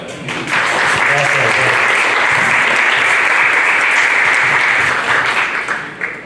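Audience applause welcoming a speaker at a talk, a sustained, even wash of clapping from a sizeable crowd that holds steady for several seconds before tapering off, with a few voices faintly beneath.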